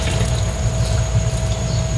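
Water pours into a cooking pot of paksiw na kuwaw, a short steady splashing rush close up.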